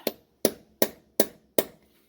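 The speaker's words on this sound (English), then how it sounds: "we'll take a punch, put it on that axle nut ridge, right where the groove's at, and Thor's baby hammer" Five sharp hammer blows on a punch staking a Honda CR-V axle nut, evenly spaced metallic strikes, close and loud, each ringing briefly before the next.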